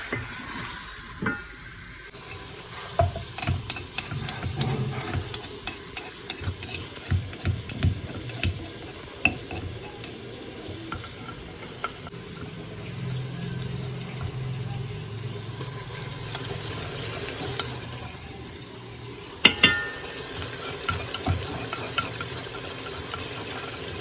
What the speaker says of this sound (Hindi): थोड़ा सा प्याज के साथ इसको भूनूंगी